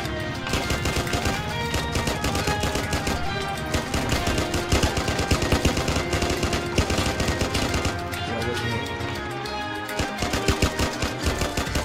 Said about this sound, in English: Machine gun, I want you to get that stuff on fire.